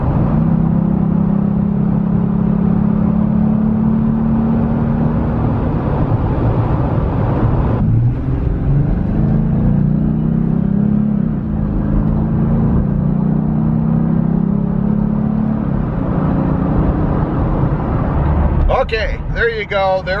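A Jeep Gladiator or Toyota Tacoma pickup cruising at 55 mph gets a bit more gas, its steady in-cabin engine and road drone shifting to a higher, strained tone partway through, loud and continuous.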